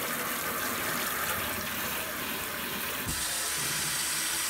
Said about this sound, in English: Let's hit this with some water.